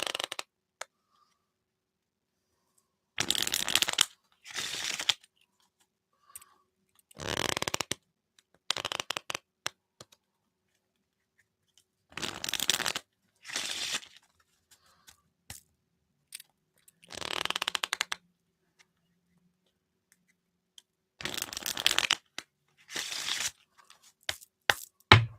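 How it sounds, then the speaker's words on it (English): Tarot cards being shuffled in bursts of crisp riffling and slapping, repeated about eight times with pauses between, fairly close and alone. "Go ahead and shuffle the cards a minute."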